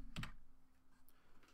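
A few quick keystrokes on a computer keyboard while searching for PDF software in a Linux software manager, one close cluster of clicks followed by sparse, fainter taps.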